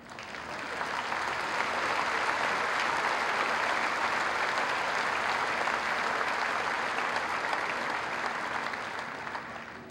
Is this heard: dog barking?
no